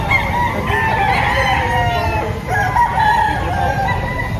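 A seven-month-old rooster crows loudly and close by amid a busy chicken market, with clucking and other fowl calls overlapping throughout.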